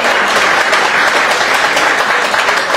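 A Paris audience at an album presentation claps loudly and continuously, a dense, close wall of applause with no break across the whole stretch.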